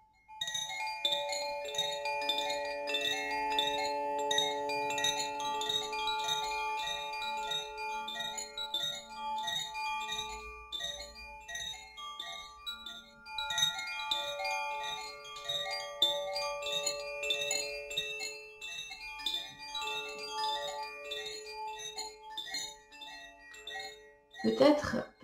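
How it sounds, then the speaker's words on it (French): A meditation chime rings out in a long series of bright, overlapping metallic tones that sustain and decay, played near and fairly soft, with quiet pauses between clusters of strikes. "Maintenant, je vais faire résonner un carillon."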